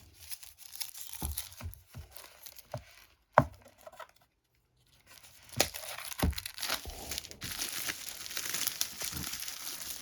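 Unwrapping a board game package, the Batman Team-Up Teen Titans Go! vs Scooby Doo set, with sharp plastic tearing and crinkling in short bursts, a brief pause, then sustained rustling, close and clear without talk.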